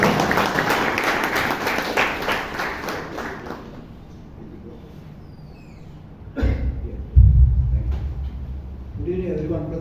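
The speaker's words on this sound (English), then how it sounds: "Can we have a round of applause for Robinson D'Souza?" A small audience at a Toastmasters meeting claps for an evaluator, a brief burst of applause over the first few seconds that dies away into quiet, followed by a cough, a thump and the start of a voice.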